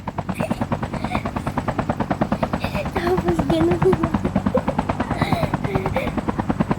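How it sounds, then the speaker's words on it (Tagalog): A video game helicopter with the players riding aboard gives a loud, steady rapid rotor thump that throbs continuously, with someone talking briefly over it and faint game sounds mixed in. "Ayan, nakasakay na kami sa helicopter."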